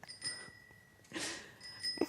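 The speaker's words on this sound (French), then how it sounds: "j'entends déjà le drôlin de la petite sonnette" A small bell on a handmade bicycle rings twice with bright metallic tings, quiet and somewhat distant, separated by a short pause in an otherwise hushed setting.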